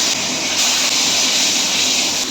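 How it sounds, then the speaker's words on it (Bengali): Hilsa fish head frying in hot oil in a pan, a dense, loud, continuous hiss with no talk over it. "দেখুন মাছের মাথাটা ভাজা হচ্ছে।"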